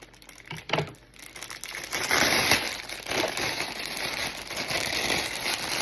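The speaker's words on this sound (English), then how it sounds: "I'm sorry for the bag crinkling" A plastic shopping bag crinkles up close, loud and continuous, with sharp rustles and crackles as it is handled and pulled at.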